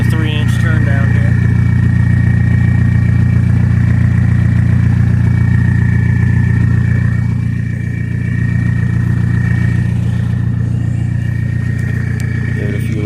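A 2000 Jetta TDI diesel engine with a straight-pipe exhaust idles loudly and steadily with a deep, constant rumble, close and continuous throughout, with only a slight dip around the middle.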